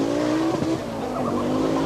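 An Audi Quattro Group B rally car races at the 1985 Hellendoorn Rally, its engine roaring loud and close with tires squealing through a skid and gear changes.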